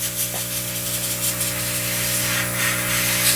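A steady airbrush hiss sprays paint continuously at close range over a constant mechanical hum, with slight pulses in intensity.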